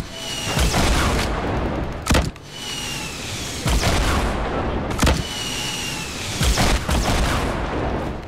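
Repeated loud explosions in a Fortnite battle royale match, several sharp booms a few seconds apart over a dense, rumbling backdrop of game noise and gunfire.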